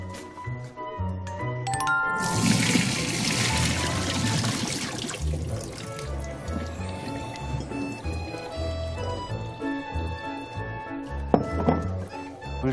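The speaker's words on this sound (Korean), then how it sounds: "그러면 이제 요거를 이제 물기를 제거해야지." Cooked vegetables are drained of their water in a kitchen, giving a steady splashing pour and trickle with light clinks of cookware, close and fairly loud.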